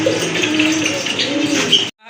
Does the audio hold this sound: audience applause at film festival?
no